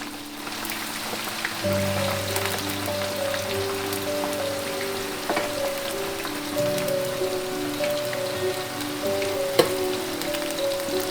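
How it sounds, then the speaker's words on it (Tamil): Cut brinjal pieces fry in hot oil, a continuous crackling sizzle with scattered pops, steady and close. A low mechanical hum from the kitchen runs underneath, and no one speaks. "வெட்டின கத்திரிக்காயை இப்போ நம்ம எண்ணெயில் போட்டு பொரிக்க போகிறோம்."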